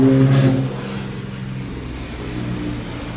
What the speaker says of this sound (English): Apologies for the noise. I'm directly beside a 4-lane highway.